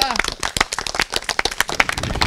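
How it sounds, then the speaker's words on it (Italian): Quiz show audience clapping in a lively, uneven patter of sharp individual claps, close and fairly loud, with a voice briefly heard at the start. "La risposta esatta, brava Martina, un applauso."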